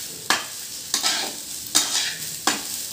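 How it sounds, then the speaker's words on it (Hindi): Rice grains dry-roasting in a pan for basanti pulao, with four distinct bursts of crackling scrape and sizzle spaced about a second apart, each fading into a faint hiss, close and fairly loud with no voices. "भूनते भूनते आप लोगों को थोड़ा सा साउंड सुनाई देगा, चिड़चिड़ करके साउंड आता है"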